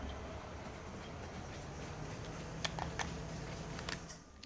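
Train running on a railway in Farming Simulator 19 on the Falkental map, a steady low rolling rumble with faint clicking rail noises scattered over the last couple of seconds, no talk.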